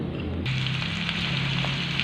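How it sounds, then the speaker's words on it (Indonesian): Ground spice paste with ginger, bay leaves and green chili fries in a pan for a cucumber and tofu coconut-milk dish, a steady, loud close sizzle with a low hum underneath. "bumbunya udah saya masukin. Lagi digoreng."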